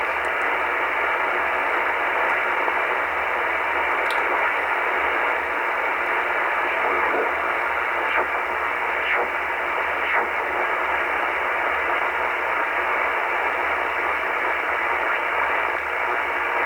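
Dense hiss and static from a shortwave receiver tuned to the lower 4 MHz utility band, a steady loud wash of noise with faint sweeping tones and brief ticks drifting through it.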